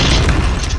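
Bomb detonation in Point Blank, a short, heavy boom with a dense low rumble, loud and close, with no talking over it.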